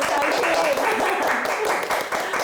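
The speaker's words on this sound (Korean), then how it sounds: "선배님들, 네, 다 같이 박수 한번 치고서" A group of people applauding together at the opening of a real estate academy, a dense, continuous clapping sound with faint voices mixed in underneath.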